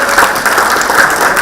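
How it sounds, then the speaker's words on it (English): An audience at a city candidates debate claps for the candidates, giving dense, loud, steady applause from a crowd, with no voices heard. "Big round of applause for the candidates"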